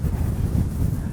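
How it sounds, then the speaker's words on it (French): Wind buffets the microphone outdoors at a spring car event, a loud, low, continuous rumble that dominates the brief moment with no talking. "Ah, il y a du vent là."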